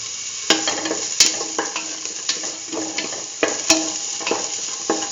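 Shallots and salt being stirred in a hot frying pan for a potato chayote stew, with a steady sizzle broken by repeated sharp scrapes and clinks of the utensil against the pan.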